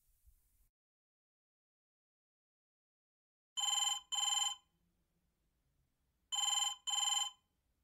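A telephone rings before a call to a community centre, giving two pairs of double rings separated by silence, clear and electronic.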